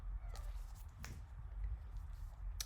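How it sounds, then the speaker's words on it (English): A house cat meows faintly in the background, a few short cries over low room noise in a quiet indoor setting. "Sorry if you hear my cat in the background meowing."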